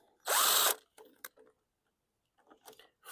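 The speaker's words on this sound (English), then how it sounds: "Let me put the sheet metal screws in first." A power drill drives sheet metal screws into a lawn mower: one loud, close half-second whir, followed by scattered clicks and light clatter of handling.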